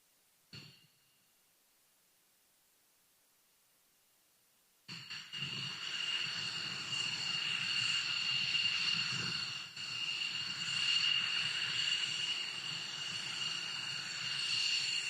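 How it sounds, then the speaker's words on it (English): F-16 fighter jets taxiing past at an air race event in Roswell, New Mexico: a short thump, a few seconds of near silence, then a sustained whining jet-engine roar with a high tonal whistle that holds steady at a moderate distance. "we'll administer the oath of office as soon as our F-16 friends"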